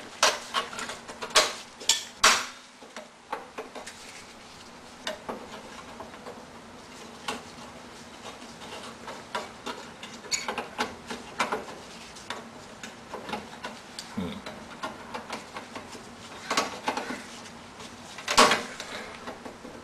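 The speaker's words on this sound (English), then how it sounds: "You grab the spring, or try to, and just kind of pry it out." Side cutters prying a drum brake spring loose on a 1984 Honda CRX, heard as sparse close metallic clicks, scrapes and ticks with quiet stretches between several tries.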